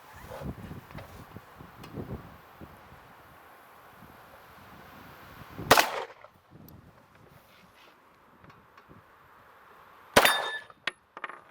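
German 9mm pistol fired at an outdoor range toward a steel dueling tree, with two sharp, loud reports spaced several seconds apart amid wind noise and faint ringing.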